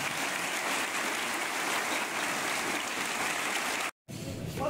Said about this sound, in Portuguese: No nosso coral, vamos dar uma oração de palmas para o Senhor